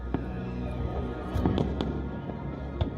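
Fireworks bursting at Hungary's large public fireworks display, billed as Europe's biggest: a string of sharp crackling pops and thuds at irregular intervals over a steady background rumble.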